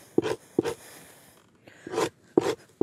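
A deer hide being scraped of hair and grain, with several firm, rasping strokes in bursts and short pauses between them, close and fairly quiet.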